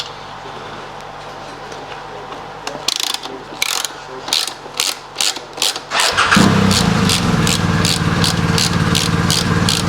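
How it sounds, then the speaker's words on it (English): Ratcheting spanner undoing the rider seat bolts on a Royal Enfield Shotgun 650, heard as a run of rapid close clicking bursts that give way to a steadier, louder mechanical rasp in the second half. "I'll hold the spanner on this side"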